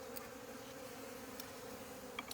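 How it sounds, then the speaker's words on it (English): A yellow jacket wasp buzzes close by near beehives in a bee yard, a faint, steady drone held for a couple of seconds with no voices. "There's Yellow Jacket."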